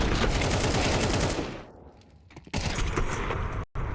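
Rapid automatic gunfire in a Counter-Strike 2 pro match, loud and close in sustained bursts that thin out, pause briefly, then resume in another heavy burst before cutting off.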